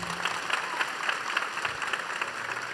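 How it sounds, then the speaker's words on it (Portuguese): Applause from a studio audience during a televised Catholic rosary program: fairly soft, moderately dense clapping with individual hand claps audible, continuing briefly without speech. "Vamos aplaudir a Fernanda."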